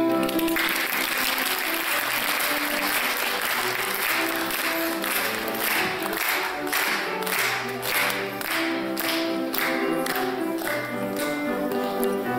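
An audience claps steadily through the whole stretch at a first-grade pledge and induction ceremony in a school hall, a dense sustained applause with some louder individual claps and faint voices underneath.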